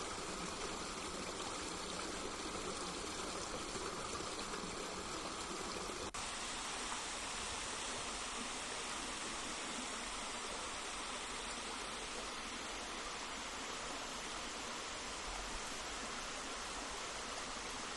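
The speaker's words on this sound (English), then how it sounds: "I think it's more a series of waterfalls." Waterfalls and a flowing river in a New Zealand national park on a rainy island make a steady, broadband rush of water that is continuous and fairly close, with no voices for eighteen seconds.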